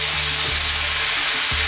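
Shrimp paste (bagoong) being stirred in a frying pan for chicken Bicol Express, a loud, dense hiss of frying with no talk over it.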